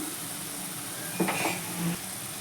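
Spice masala with turmeric and four slit green chillies frying in a pan for a Bengali rohu fish curry, making a steady soft hiss with a brief burst of scraping and stirring midway, no voices.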